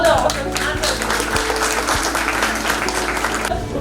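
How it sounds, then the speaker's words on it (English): Dense, steady applause from an audience at a medical book launch at Jamia Millia Islamia fills the room, loud and continuous without a break. "A huge round of applause for all the authors"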